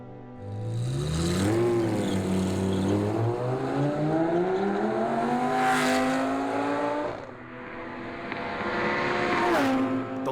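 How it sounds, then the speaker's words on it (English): A Lamborghini Gallardo screams past at high speed with a loud rising engine whine that climbs through the gears, an abrupt shift, then a second wailing surge as it carries on at full throttle. "The Lamborghini flies by"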